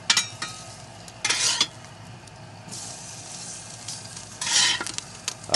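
Kielbasa sizzles on a Weber Q grill, a low steady fat-spitting hiss broken by a few bursts of louder crackle and clinks of a utensil moving the sausages, close up with no one talking.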